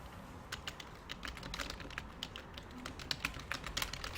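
Computer keyboard keys clatter in quick, uneven bursts as text is typed into a spreadsheet cell, a quiet, close run of light taps with no voices.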